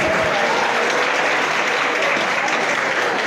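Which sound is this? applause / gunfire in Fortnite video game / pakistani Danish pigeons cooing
applause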